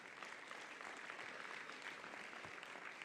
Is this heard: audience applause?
yes